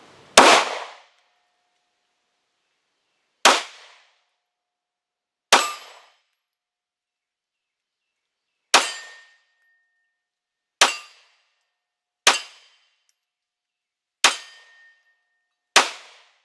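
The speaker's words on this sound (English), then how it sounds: "So let's go ahead and put some rounds down range." A pistol with an FDE slide and FDE lower, a Glock fitted with a compensator, fires eight single shots downrange, each a sharp loud crack with a short decay, spaced irregularly a few seconds apart.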